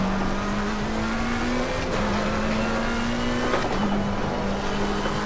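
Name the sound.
race car driving in video game Assetto Corsa Competizione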